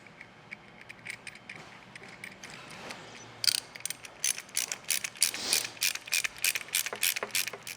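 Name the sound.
tightening fog light bracket bolts with 11 mm ratchet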